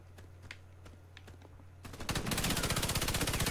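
Rapid automatic gunfire in the multiplayer shooter Warface, starting after a quiet stretch of sparse clicks and hum and then hammering loudly and steadily in a fast, even rhythm through the rest of the clip.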